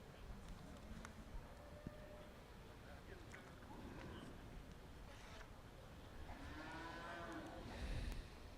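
Purebred Simmental cattle low and moo faintly in a livestock show ring during a beef show, with a steady crowd and arena murmur and distant announcements underneath.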